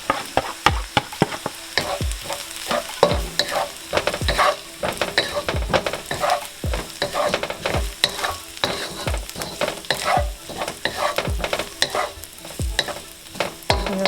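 Radish cake frying in a pan with chopped dried shrimp, stirred and scraped continuously with a spatula, so quick repeated scraping clicks run over a steady sizzle.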